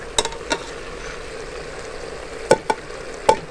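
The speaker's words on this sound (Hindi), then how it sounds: "अच्छी तरह मिक्स करेंगे और मज़ीद इसको 2 मिनट हम भूनेंगे" Beef masala with turmeric, coriander powder and salt being stirred and fried in a pot, a steady low sizzle under several sharp spoon knocks against the pan, close by, with no voices.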